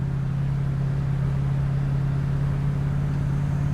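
Inside a 1968 Mercury Cougar XR7 cruising at about 45 mph, a steady low engine hum and road rumble drone evenly with no changes in pace.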